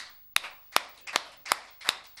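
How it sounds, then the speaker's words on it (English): An audience claps in slow rhythmic unison, about five sharp claps spaced evenly, with no talk over them. "Please show your appreciation with a rhythmic clap at about this tempo"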